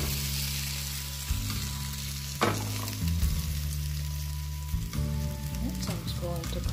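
Egg-dipped bread for French toast fries in a pan, giving a soft, steady sizzle with a few sharp pops and clicks, partly buried under louder background music.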